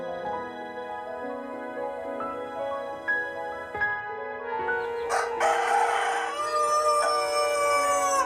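A rooster crows at night, a long drawn-out cock-a-doodle-doo with strained rising and falling tones, loud and close, followed by a harsher burst near the end, with no voices present.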